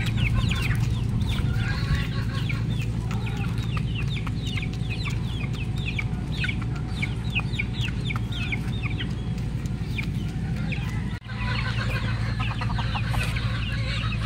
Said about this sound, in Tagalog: Dalawang inahin natin.